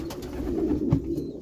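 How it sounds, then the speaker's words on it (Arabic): Pigeons from Kuwait coo softly in a breeder's loft, low throaty murmurs repeating over a faint background, close but quiet with no talk. "حمام من الكويت تمام"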